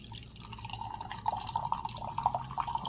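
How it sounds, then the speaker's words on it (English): Hard Mountain Dew poured from a freshly opened can into a glass, a steady liquid trickle with small dripping and splashing bursts, close up and fairly quiet, with no talking. "And then we will get a nice little pour here."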